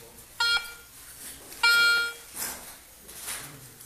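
Outdoors, a metal detector gives two short tonal beeps, the second one longer, with soft rustling and faint background noise between the signals.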